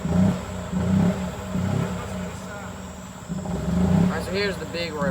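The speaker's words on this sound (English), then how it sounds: "I'm putting it in neutral so I can just keep the engine warm." A 2005 EZ-GO MPT1200G two-wheel-drive golf cart engine idling in neutral near a river, a low pulsing putter with loudness swells, close by, with someone talking over it.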